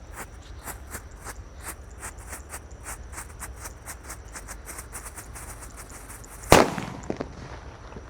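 Disco firecrackers set off outdoors during Ramadan: a rapid run of sharp crackling pops, then a single loud booming blast near the end followed by a few scattered smaller pops.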